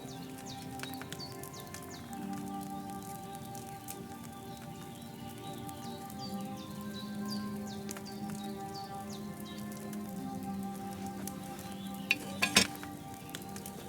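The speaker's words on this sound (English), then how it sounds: "Hear that bubbling? It's boiling." Wine bubbling as it boils in a cauldron over a flame in the game Kingdom Come Deliverance 2, a soft continuous sizzling and popping under faint background music, with a brief louder clatter near the end.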